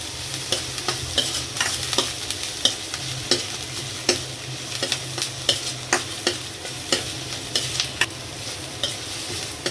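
A spoon scrapes and stirs masala with green chillies in a pan over low heat, sizzling steadily with repeated rhythmic clinks and scrapes, close up and alone.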